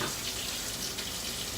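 Hot tap water runs steadily into a clear bowl, giving a continuous close hissing splash with no talking.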